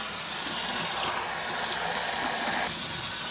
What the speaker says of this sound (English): I put some water on it.